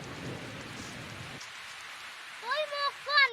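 Rain patters as a soft hiss for about a second and a half, then fades away, followed by a voice speaking faintly.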